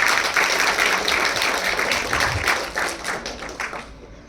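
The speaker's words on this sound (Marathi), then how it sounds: "आपण सर्वांनी पुन्हा एकदा जोरदार टाळ्या वाजवूया" An audience claps at a website launch ceremony, a dense burst of applause that is loud at first and gradually thins and fades over several seconds, with no talk.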